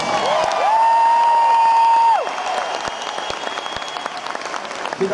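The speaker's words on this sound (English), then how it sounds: "please give your own strings a huge round of applause" At a live concert in Erie, Pennsylvania, a large arena audience claps and cheers for the local string section. A loud sustained whoop rises over dense applause before the crowd noise thins to scattered clapping.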